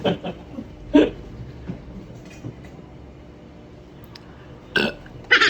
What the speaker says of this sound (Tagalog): Tapos mag-burp ka daw.